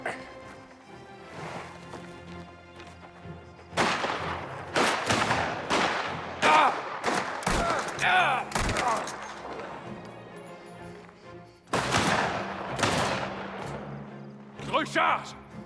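Gunfire in the video game Mafia: The Old Country, repeated shots and bursts in clusters with quieter gaps, mixed with game voices and action sounds.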